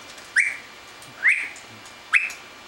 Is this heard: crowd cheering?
no